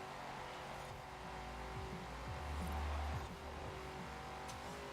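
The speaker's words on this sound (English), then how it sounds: "And just listen to this exhaust. Thing is a monster." A track car tears through turns, its exhaust roaring loud and continuous, with the engine note swelling and revving harder midway before settling back.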